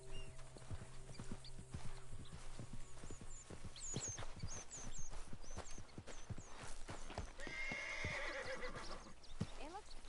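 A spooked horse in Red Dead Redemption 2 whinnies loudly while hooves clip-clop in a steady, close rhythm, with faint game ambience and brief voices underneath.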